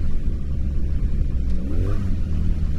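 A 1984 Honda Magna VF700C motorcycle rumbles steadily while being ridden, a loud, close, low engine drone with a slight rise in revs near the end and wind noise over it.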